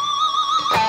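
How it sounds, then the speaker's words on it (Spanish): Single sustained artificial harmonic on an electric guitar picked with a plectrum, a bright high ringing tone with overtones, followed by a brief pick scrape near the end, heard alone. "La siguiente técnica que me gusta muchísimo para hacer con la púa es los armónicos artificiales"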